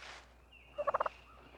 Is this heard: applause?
no